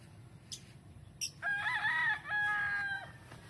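A rooster crows at a small backyard chicken coop, one long drawn-out call in two parts, fairly close and clear, preceded by a couple of brief clucks, with no talking.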